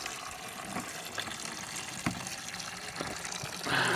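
Coolant trickling and splashing out of a 1987 Honda CBR 750F motorcycle into a container, a steady close liquid pour that grows into a louder gush at the end.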